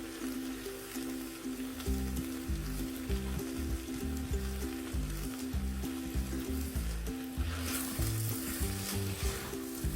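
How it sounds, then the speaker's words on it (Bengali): Mixed vegetables and oats frying and being stirred in a pot for khichuri, a constant close sizzle with the rhythmic scrape and knock of a spoon turning the mixture; no talking. "জাস্ট মিনিট খানেকের মতো ভালো করে নেড়ে চেড়ে সব মানে মিক্স ভেজিটেবলগুলি সব কিছুর সাথে মিক্স করে"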